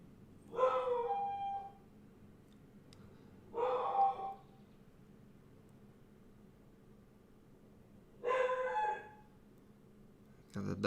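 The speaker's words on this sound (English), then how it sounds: "Got the dog already starting." A dog barks and howls in three separate drawn-out bursts spaced several seconds apart, moderately distant, with quiet room hum between them.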